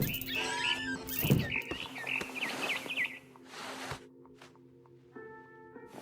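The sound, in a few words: barn swallow chirping in video game What Remains of Edith Finch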